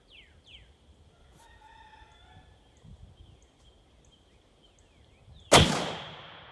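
Lever action rifle fires a single loud, sharp shot that rings out with a decaying tail outdoors, after quiet background with a rooster crowing and birds calling.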